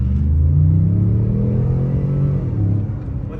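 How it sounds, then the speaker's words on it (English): A Ford F-150 pickup truck makes a four-wheel-drive launch, its engine giving a deep, loud rumbling rev that rises in pitch and then eases off, with no voices. "four-wheel drive launch."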